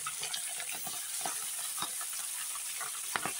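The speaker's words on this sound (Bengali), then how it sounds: "এই দেখো তেল গরম হয়ে গেছে, এখন মাছগুলো ছেড়ে দেবো। মাছগুলো আস্তে আস্তে ছেড়ে দিচ্ছি।" Pabda fish fry in hot oil, giving a continuous crackling sizzle with scattered pops and soft spatula clinks, close and moderately quiet, with no talking.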